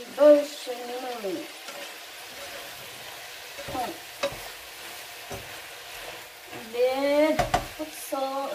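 Spinach and tuna stir-fry in a pan with a soft, steady sizzle, broken by occasional scrapes and clinks of stirring, while a person talks over it at times.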